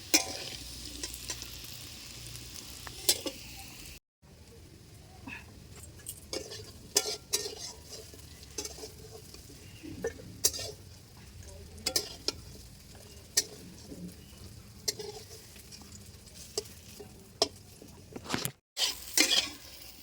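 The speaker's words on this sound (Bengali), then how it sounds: "দেখো আমার সোয়াবিন ভাজা হয়ে গেছে" Steady sizzle of soybean chunks frying, with frequent scraping and clinking of a spatula against a pan, briefly cutting out twice; no voices.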